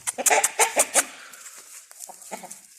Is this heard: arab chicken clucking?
yes